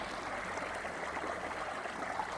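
Water flowing steadily in a large creek on a rural property, a continuous soft broadband rush and trickle heard alone without voices, even in level throughout.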